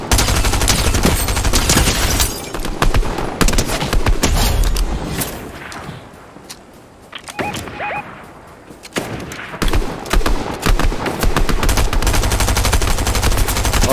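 Rapid automatic gunfire from a Fortnite zero-build match crackles in loud, dense bursts, with a short lull of quieter scattered shots midway before heavy sustained firing resumes.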